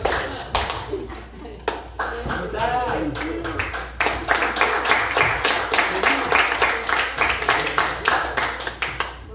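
An audience at a rabbi's Torah lecture in Los Angeles bursts into applause. The clapping starts loose and scattered among speech, then settles into a brisk, rhythmic, close-up beat of many hands.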